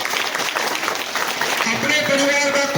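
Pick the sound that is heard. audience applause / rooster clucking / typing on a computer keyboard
audience applause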